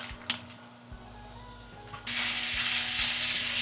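Ground beef drops into a pan with a little olive oil and bursts into a loud, bright, broadband sizzle halfway through, after quieter kitchen handling noises and a few clicks, with no talking.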